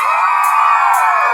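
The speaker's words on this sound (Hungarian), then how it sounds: "Na 3-ra kérnék egy hatalmas visítást." A birthday-celebration crowd lets out a loud, sustained scream on cue, a dense, high-pitched wall of voices that holds steady throughout at close range.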